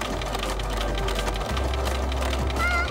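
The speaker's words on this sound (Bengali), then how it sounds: "ঠিক আছে, আমরা এইবার সেলাই করব।" A sewing machine stitching a costume, giving a brief, dense, continuous mechanical whirr that stays loud and close throughout with no speech.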